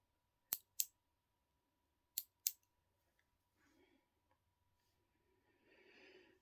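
Scissors snip close by in two quick pairs of crisp cuts, trimming hair during a quiet interview role-play, followed by faint soft rustling.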